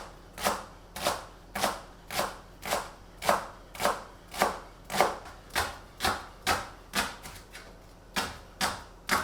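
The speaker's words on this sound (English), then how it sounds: "So now I'm going to slice these finely." Knife slicing mushrooms finely on a cutting board in a home kitchen: about seventeen crisp, evenly spaced chops, close and clear, with no talking.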